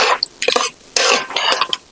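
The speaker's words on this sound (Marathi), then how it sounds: "हे सगळे घटक आपण तेलामध्ये छान परतून घ्यायचे" Urad dal stirred and fried in oil in a pan, a couple of close scraping bursts of spoon against metal with a light sizzle between them, brief and fairly loud with no talking.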